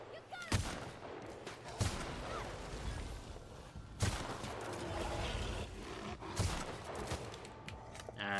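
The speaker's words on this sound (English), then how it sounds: "The old point-blank sniper rifle. Did pretty well for itself." Four loud, sharp sniper rifle shots ring out in The Outer Worlds, spaced a second or two apart over a rough, roaring game background.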